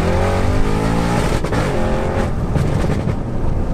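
A tuned 820 BHP, methanol-injected Audi RS6 revs loudly up close. A deep, steady engine drone with a harmonic tone gives way midway to a rougher, broader roar, with no talking over it.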